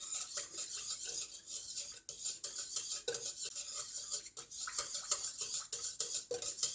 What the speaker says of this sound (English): I'm just mixing all the ingredients through at the moment.